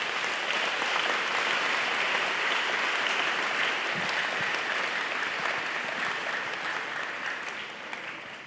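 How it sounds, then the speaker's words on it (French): A large audience claps loudly and continuously in a dense, steady wash of applause that tapers slightly near the end. "Clap louder."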